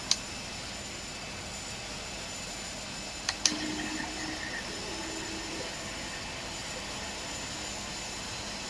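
Airliner jet engine spooling up in Flight Simulator X, a steady, faint whine and roar held throughout, with a couple of sharp clicks near the start and a brief swell partway through.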